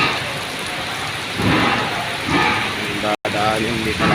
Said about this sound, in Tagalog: Napakalakas ng ulan guys.